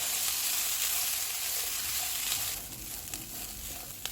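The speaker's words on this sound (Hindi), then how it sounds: "एक मिनट के बाद इसमें धनिया डालेंगे, चिकन डालेंगे, ड्राइड ओरिगानो डालेंगे। इनको 2 से 3 मिनट तक भूनेंगे।" Chicken with coriander and dried oregano frying in a pan for a chicken fry sandwich, a steady soft sizzle that runs throughout with a few faint stirring clicks near the end.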